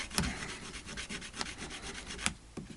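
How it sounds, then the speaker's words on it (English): Wood is rubbed down with a coarse abrasive in steady back-and-forth scratchy strokes, close and fairly quiet, with a few sharper scrapes standing out. "I would give this a good rub down with the coarser one first"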